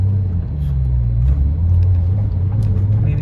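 A Porsche 997 Turbo engine hums with a deep, steady rumble while driving, loud and close from inside the cabin, with light road noise over the low drone.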